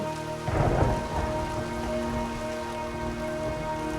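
Cartoon storm effect: steady heavy rain hisses throughout, with a thunder rumble rolling in near the start, no talking over it.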